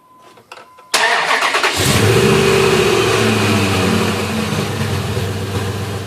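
A 2003 Dodge Ram truck with a 5.7 Hemi V8, recently serviced for a rough idle, cranks briefly and fires into a loud, close start, revving up before settling into a steady, throaty idle.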